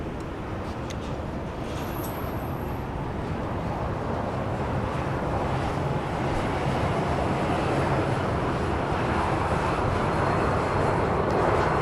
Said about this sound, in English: It's an Embraer Phenom 300 taken off.